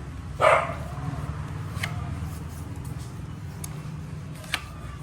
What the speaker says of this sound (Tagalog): Yan, mga aso ni Kiray.